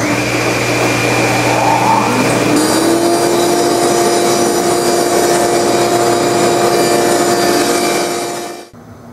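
A table saw rips narrow walnut strips against the fence for a picture frame border, its loud steady whine starting up, holding under load through the cut and then shutting off, with no talking.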